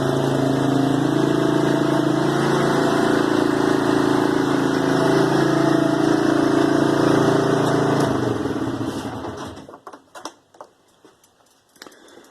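A four-wheeler that sat in a pasture for five years runs close by with a steady, loud engine drone and a ticking edge, then shuts off near the end, leaving faint clicks and silence.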